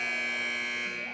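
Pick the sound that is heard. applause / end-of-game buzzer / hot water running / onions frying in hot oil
end-of-game buzzer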